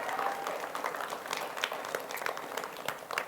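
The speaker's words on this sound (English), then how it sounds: "Y'all give them a round of applause." Church congregation applauding on a Sunday morning, quiet and a little distant, with many scattered claps blending into a steady patter.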